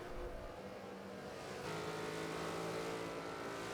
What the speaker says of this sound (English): Then we hear the revs of the motor